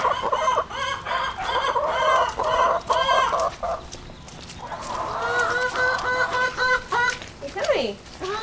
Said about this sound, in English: Standing in a puddle with my chicken.